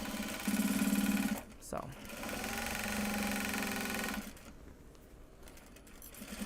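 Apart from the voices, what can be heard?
sewing machine sewing a project bag from Japanese fabric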